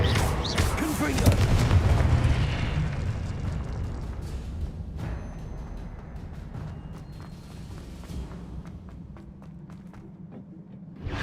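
A blast from the Confringo explosion spell in Hogwarts Legacy erupts with a heavy low boom and rumble that slowly fades, followed by light scattered thuds and footsteps.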